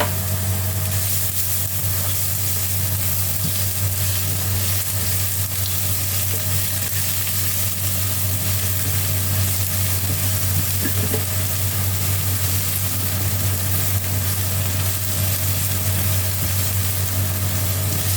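Garlic and ginger sizzle steadily in hot cooking oil in a pan, a continuous loud frying hiss with a low hum underneath, unbroken and close.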